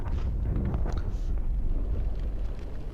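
An explosion in an animated Warhammer-style battle scene beside an anti-aircraft cannon, heard as a sustained loud low rumble with crackling bursts that stays dense and steady to the end.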